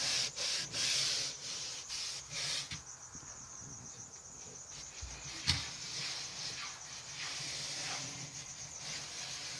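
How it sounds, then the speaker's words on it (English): A rag rubs across the wall of an old animal enclosure, giving steady close scrubbing and wiping strokes in repeated passes with no talking. "so I'm wiping that off now."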